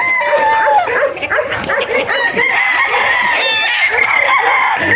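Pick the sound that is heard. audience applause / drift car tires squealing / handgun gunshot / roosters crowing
roosters crowing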